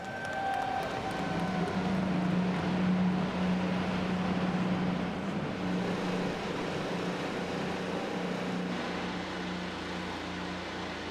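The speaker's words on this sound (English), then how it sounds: "The engines fired. 27 cars ready to roar into life." Twenty-seven IndyCar race cars idle and rumble after starting their engines on the streets of Detroit at the Grand Prix, a steady, dense mechanical drone with a low hum, moderately distant and continuous.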